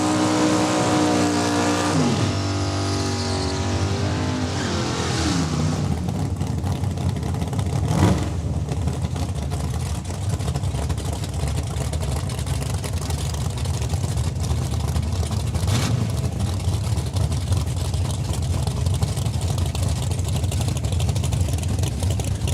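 Drag racing cars launch at Saskatchewan International Raceway with a loud, sustained engine roar that rises and fades. A second surge of roaring engines follows later, and a loudspeaker commentator is faintly present underneath.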